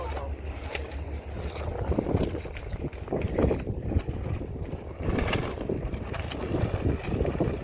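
Gusty wind rushes across the microphone in uneven waves on Lantau Island, Hong Kong, near Yat Tung Pier, with a low rumble beneath and no clear talk.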